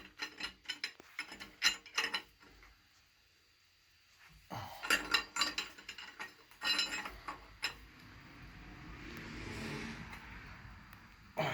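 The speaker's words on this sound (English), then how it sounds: "Try putting the box end on it. Kind of like I'm ratcheting it." A box-end wrench ratcheting on a bolt of a Mercruiser GM 4.3LX V6 engine, close bursts of rapid metallic clicks separated by pauses, with faint scraping between strokes.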